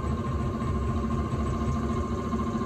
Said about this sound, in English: just enough that you hear a bit of sound of the parting tool scraping the gear